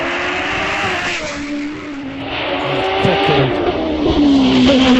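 Alex Cole's hillclimb race car runs up the course at Doune during a British Championship hillclimb, its engine whining steadily with rising and falling pitch as it climbs, fairly close and loud, with brief tire squeal.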